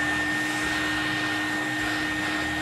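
A toy stuffing machine blows fluff into a stuffed animal, giving a steady loud whooshing airflow with a constant motor hum, close and continuous without talk.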